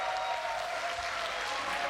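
An audience applauds at an outdoor autumn-evening concert in the courtyard of the Seoulju Culture Center in Ulju, with dense, steady clapping throughout.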